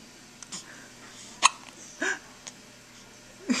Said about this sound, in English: Callie's got the hiccups.